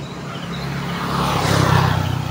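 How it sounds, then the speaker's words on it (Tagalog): A truck passes on a rural Philippine road after a typhoon, its engine rumble swelling louder and nearer over a couple of seconds, with no one speaking. "Truck lang ito mga idol."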